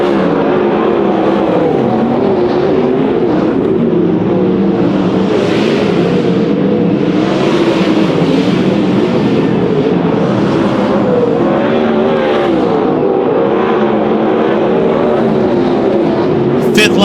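410 sprint cars race on a dirt oval at Silver Dollar Speedway, a loud continuous roar of engines revving and surging through the turns as the pack runs tight, with an announcer talking over the noise throughout.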